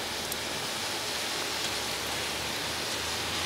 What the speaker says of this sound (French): Je suis sûr qu'il doit y avoir de la grêle